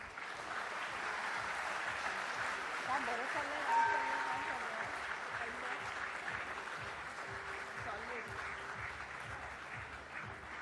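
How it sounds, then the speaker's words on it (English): A crowd applauds at the LIC IPO listing ceremony, a sustained, distant wash of clapping running throughout, with voices and other sounds mixed in beneath it. "Can we hear a resounding of claps, please?"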